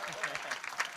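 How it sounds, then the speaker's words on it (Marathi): Scattered audience clapping at a Marathi kirtan devotional gathering, a short, thin patter of hands with an indistinct voice faintly underneath. "आमच्या करता कमीत कमी टाळ्या तर वाजवा."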